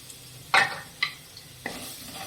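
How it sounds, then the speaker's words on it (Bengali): Semolina stirred in a pan with onion seeds, giving three separate scraping strokes with short gaps between them, each fairly close and clear over a quiet background. "এরপর সুজিটা একটু নাড়াচাড়া করে নেব"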